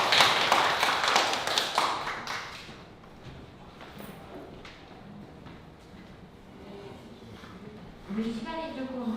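An audience applauds at the close of a lecture, the clapping loud and dense at first before thinning, with a person speaking through the later part.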